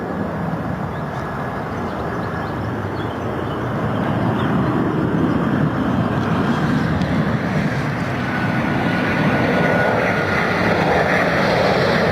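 Aircraft arriving to land at Stansted Airport, a broad jet engine roar that builds and holds loud and steady outdoors, with no talk over it.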